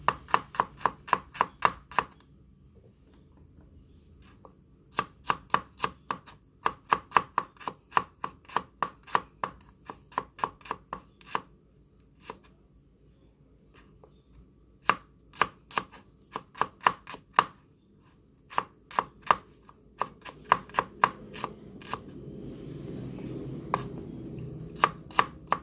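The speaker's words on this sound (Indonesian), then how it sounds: "Kemudian dilanjut dengan bawang merah juga dipotong, diiris-iris tipis-tipis." Shallots sliced thin on a cutting board, bursts of quick, crisp knife taps in rapid runs with short pauses between, close and clear, with a low rumble of background noise building near the end.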